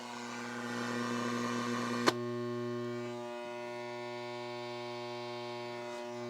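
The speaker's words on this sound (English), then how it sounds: "now, I hear all the usual interference that I'm expecting to get down here" A Philips 780 four-band transistor radio in a basement gives off steady buzzing hum and static interference, with a sharp click partway through, alone and fairly loud.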